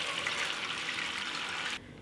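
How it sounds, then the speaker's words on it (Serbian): Hot water poured from a container into a pot holding jars of meat, a steady splashing gush at moderate level that stops abruptly near the end, with no voices. "I zatim u šerpu sipam vruću vodu, jer su tegle vruće, i sipat ću sve do visine poklopca."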